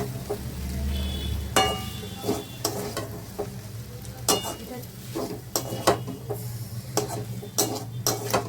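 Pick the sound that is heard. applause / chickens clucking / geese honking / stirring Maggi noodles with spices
stirring Maggi noodles with spices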